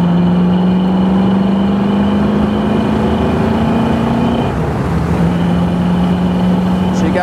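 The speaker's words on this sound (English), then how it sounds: "We'll downshift and give it a little gas." A 1965 Mustang convertible with an A-code 289 engine revving after a downshift, loud droning engine tone and road noise heard close up, pitch rising steadily then dropping before settling again.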